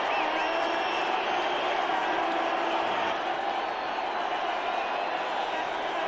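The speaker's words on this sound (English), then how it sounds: "The entire Pakistan dressing room will stand and applaud." Dense, steady crowd roar at a cricket Test match in Mohali between India and Pakistan, sustained cheering and applause from the stands as the Pakistan dressing room stands to applaud, with commentary over it.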